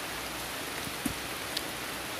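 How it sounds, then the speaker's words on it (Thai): Rain falls outdoors during mushroom digging in sticky soil, a steady dense hiss with a few louder drops tapping nearby. "แล้วฝนตกพอดี"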